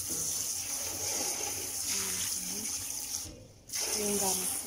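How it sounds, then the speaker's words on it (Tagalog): Tap water runs steadily into a sink as raw meat is rinsed to wash off the blood, a continuous close hiss with a brief dip near the end. "Hugasan muna natin siya para tanggal yung dugo niya."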